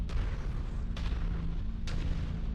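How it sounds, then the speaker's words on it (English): Missile impacts in MechWarrior 5, with the Annihilator ANH-1E mech under fire: three sharp booming blasts land roughly a second apart over a constant low mechanical rumble, with no one talking. "Incoming missile"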